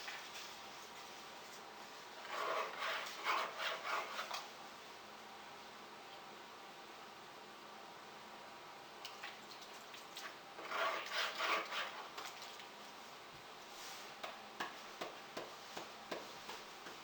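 Gold concentrates are backwashed in a 10-inch gold pan, with short bursts of swishing, rubbing water and grit. Two main bouts of swirling come with quiet stretches between, followed by a few small rhythmic sloshes, all close and soft.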